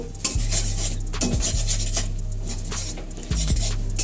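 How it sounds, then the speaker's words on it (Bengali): An egg is scrambled and fried in a pan for a Bengali-style prawn chowmein, with close metal scraping and clattering of a utensil against the pan over a faint sizzle and a low hum. "ঝুরি করে আমরা ডিমটাকে ভেজে নেব"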